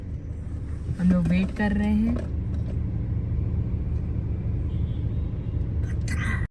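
Road traffic outside a school, heard from inside a waiting car: a constant low engine rumble fills the background while someone speaks briefly near the start, and a faint high clatter comes at the end.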